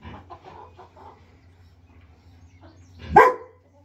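A dog gives a single sharp bark near the end, following a stretch of quieter rustling and soft background noise.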